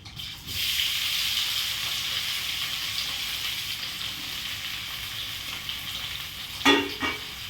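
Boiled potatoes are mixed into a frying pan for a potato stir-fry, with a steady close sizzle throughout and a sharp clatter of utensil against the pan near the end.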